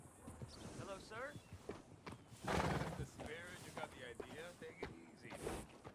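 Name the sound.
horse neighing in the video game Red Dead Redemption 2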